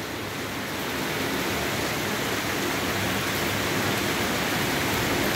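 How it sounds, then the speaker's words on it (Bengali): A dense, steady roar of heavy rain, a constant broadband hiss with no breaks and no voices. "দেখো কি প্রচণ্ড বৃষ্টি হচ্ছে"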